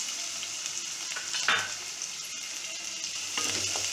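Onion and a bay leaf fry in a pan with a steady close sizzle, broken by a few soft scrapes of a stirring spoon.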